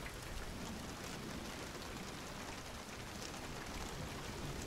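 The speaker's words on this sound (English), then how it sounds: "In the heavy rain." Heavy rain pours in the game Hunt: Showdown, a dense, steady hiss of downpour that stays constant throughout with no gaps.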